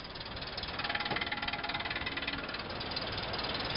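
An engine sound effect, a steady, rough rhythmic rumble with a fast knocking pulse that fills the whole stretch at an even level.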